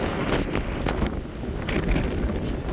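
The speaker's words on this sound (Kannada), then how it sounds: "ಫುಲ್ ಗಾಳಿ ಗೈಸ್, ಫುಲ್ ಗಾಳಿ." Strong gusts buffet the microphone on a hilltop near wind turbines, a loud blustery roar rising and falling with no voices over it.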